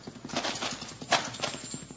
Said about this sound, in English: Horses, they're riding off.